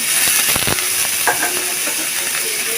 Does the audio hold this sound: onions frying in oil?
yes